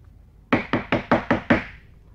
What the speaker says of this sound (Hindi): सुबह पाँच बजे दूध वाला आया उसने आके दरवाज़ा खटखटाया